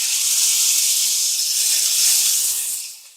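Beef searing in hot olive oil over medium-high heat, a loud, dense, continuous sizzle and hiss that holds steady, then fades out at the end.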